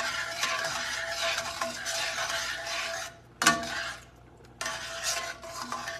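Chicken Marsala sauce thickened with a pinch of flour simmers in a pan, giving a steady close hiss with light stirring scrapes, a brief gap near the middle, and one sharp clink.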